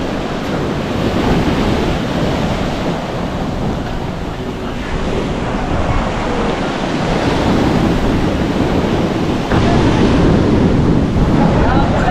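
Strong sea waves roll and crash continuously against a shoreline while fishing and gathering snails, a loud, dense roar with gusting wind buffeting the microphone throughout.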